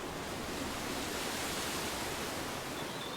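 A waterfall in the video game Chop Chop Inc rushes as a constant, even wash of broadband noise, steady and unbroken, at a moderate level with no voices over it.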